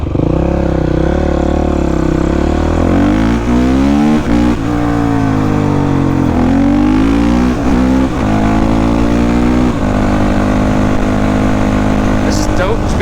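A motorcycle ridden along an empty old back road, its engine close and loud, rising and falling in pitch as the rider shifts and revs, with wind noise throughout.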